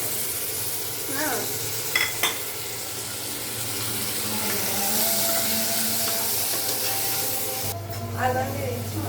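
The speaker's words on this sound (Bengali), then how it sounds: "এই যে এদিকে মশলাটা একটু কষায় নিলাম" Spice masala sautéing in a pan for homemade halim gives a steady, close sizzle with faint stirring and scraping, running throughout and swelling briefly near the end.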